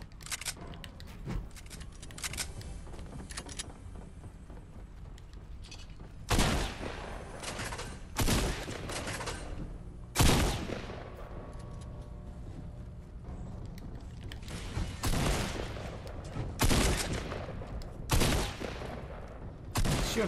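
Gunfire in Fortnite rings out in scattered sharp shots and short bursts, some loud and near, others fainter, spaced irregularly over a low steady game ambience.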